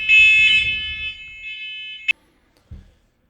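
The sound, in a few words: smoke alarms going off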